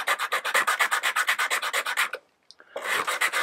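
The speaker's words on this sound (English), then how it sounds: "Wrap some sandpaper around that, and then you can use that as a sanding block" Sandpaper wrapped around a dowel-like sanding block rubs back and forth on wood, fast rhythmic rasping strokes close up, with a brief pause before the strokes resume.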